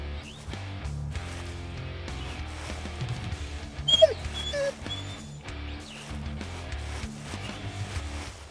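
In the hunting video game Hunting Simulator 2, a dog whimpers and yips in a brief cluster over continuous game music and ambience.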